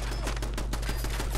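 Steady automatic gunfire aimed at the player in the video game Fallout 4, a fast continuous rattle of shots heard up close.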